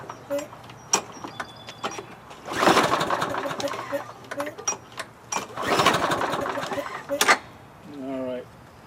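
A Briggs & Stratton Quantum lawnmower engine, under emergency repair with a suspected fuel problem, is cranked to start. It gives two rough, sputtering bursts that fail to catch, with clicks and a voice between them.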